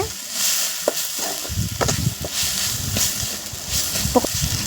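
Spices and turmeric sizzling and frying in a pan for an egg thokku, with occasional stirring clinks and scrapes, steady and close, no voices.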